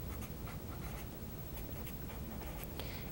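An equation being written out by hand, with short scratchy pen strokes coming in quick bursts and brief pauses, close and clear against a faint background hum.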